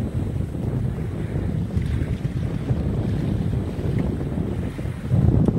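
Strong wind of around 20 knots roars across the open sea aboard a sailboat, a steady loud rush with buffeting on the microphone and surging water beneath, no voices.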